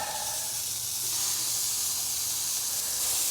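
Three beef patties hitting a hot griddle, giving a loud, steady hiss and sizzle that holds evenly throughout without any talk.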